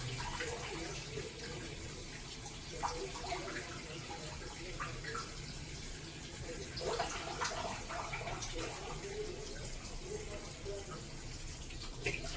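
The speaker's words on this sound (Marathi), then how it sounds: "ते काय साबुदाणा भिजवायचं, ते पाणी काढून टाकायचं त्याचं" Water is poured over and drained off soaked sago pearls, a quiet, continuous rushing and splashing flow that runs steadily throughout.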